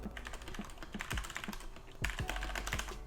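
Rapid typing on a mechanical keyboard with Cherry MX Brown switches, crisp tactile clicks and thocks in an uneven rhythm, close and fairly quiet, with no talking.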